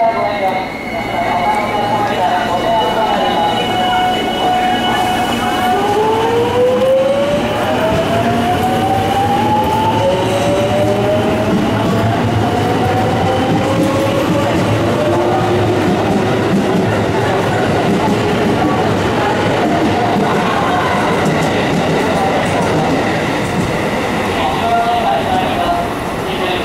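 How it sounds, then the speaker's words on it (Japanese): A JR 207 series local train bound for Shijonawate via the Tozai Line pulls out of Sannomiya station, with rising motor whine, rolling clatter and wheel squeal building steadily close by. "普通電車発車いたします"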